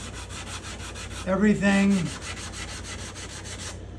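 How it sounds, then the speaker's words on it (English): A hard, flat sanding block rubs across a spruce guitar top flush with the bindings and purflings, giving steady rhythmic scratchy strokes, with a short spoken word in the middle. "And I'm not tilting my sanding block this way."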